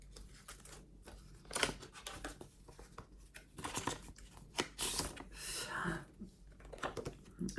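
A paper envelope is torn open close by, with crinkling, rustling and sharp ripping bursts, scattered and uneven, and no talk.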